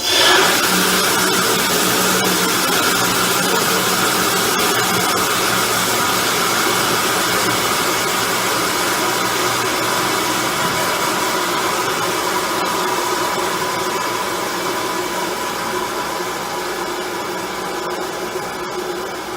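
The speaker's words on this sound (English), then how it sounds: "Again, you can do this with the truck running." A vacuum truck's engine runs steadily at idle with the PTO off, a loud, continuous mid-pitched mechanical drone with a constant hum and no talking, easing slightly toward the end.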